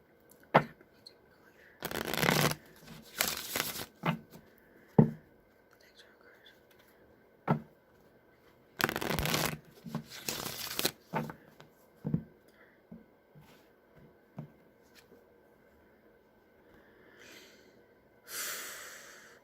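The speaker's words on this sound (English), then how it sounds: "I'm going to shuffle 3 times, draw a card, shuffle 3 times." Tarot oracle cards being shuffled in several short, riffling bursts with pauses between, close and fairly soft, mixed with breathy whispering and small handling noises.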